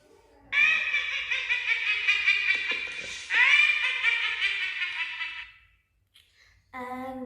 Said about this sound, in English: just the witch sound without me talking